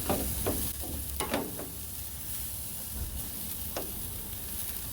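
Pork loin sizzling on a Weber Q grill, a steady close frying hiss with a few sharp crackles and pops scattered over the five seconds.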